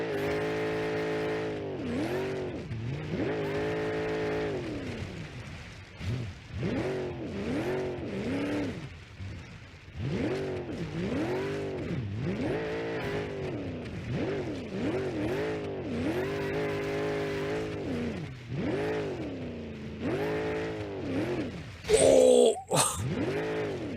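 Dominator muscle car in the BeamNG.drive driving game, its engine revving and surging repeatedly as it is driven hard, with loud rising and falling pitch sweeps throughout and a brief harsh burst near the end.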